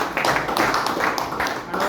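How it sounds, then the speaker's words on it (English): Audience clapping for a student speaker at a school speech competition, steady mid-level applause from a crowd in a hall, with voices mixed in. "So clap for her."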